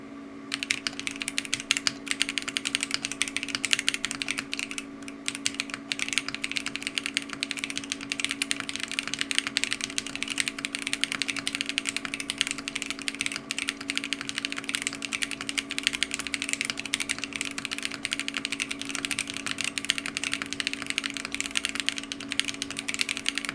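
Custom mechanical keyboard fitted with plate foam, bottom case foam, TTC Bluish Silver switches and Nova keycaps, typed on steadily and close up with quick, even keystrokes over a constant PC fan hum.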